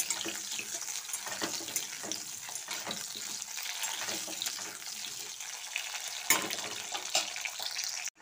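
Medium potatoes cut into long strips fry in hot oil, giving a steady hiss of sizzling with faint crackles throughout, fairly quiet, and no one speaks.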